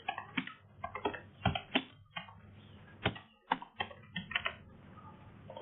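Typing names into an online recruitment form on a computer keyboard: irregular close key clicks and taps in uneven clusters with short gaps, no voices.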